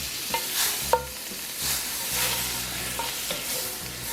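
Garlic, apples and onions sizzle in butter in a pan with blackening spice as a utensil stirs and scrapes them, giving repeated sweeping strokes over a constant close frying hiss.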